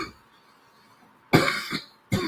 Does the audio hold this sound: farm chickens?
no